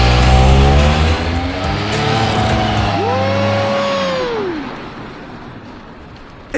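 A fast RC car races a diesel Mitsubishi Lancer sports car, a loud engine roar with a rising then falling whine as a vehicle speeds past, fading into quieter road noise.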